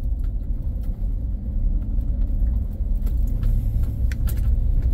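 A truck engine rumbles steadily while climbing a steep mountain road, a constant low drone heard from inside the cab with light rattles and jingles over it.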